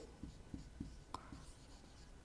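Pen or chalk scratching by hand through a maths lesson on differential equations, a steady run of short rhythmic strokes and taps, fairly quiet and close, with no talk over it.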